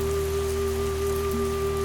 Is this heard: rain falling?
yes